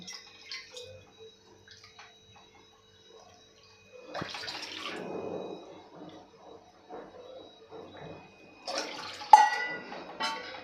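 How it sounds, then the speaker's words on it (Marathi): Water gushes into a metal wok in two separate pours, splashing and rushing nearby, with quieter clinks and drips between them. "ह्या कढईमध्ये आपल्याला पाणी घालायचं आहे"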